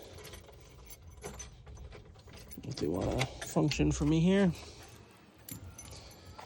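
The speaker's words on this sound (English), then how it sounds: "Get the keys" Keys for a 1962 Plymouth Valiant jangle close by in a short metallic burst while someone talks over them.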